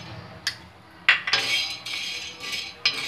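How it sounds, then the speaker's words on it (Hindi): Chickpeas tossed onto a hot tawa griddle over a gas flame, giving scattered bright clinks and rattles in bursts, with a louder clatter of pieces and utensil against the metal, fairly close and without talk. "अब हम चनों को तवे पर भून लेंगे।"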